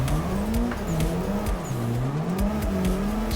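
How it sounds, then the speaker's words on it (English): Race car engine in a sim racing game, revs rising and falling as the throttle is feathered, close and steady, with faint tire noise and clicks underneath. "Just feathering throttle here."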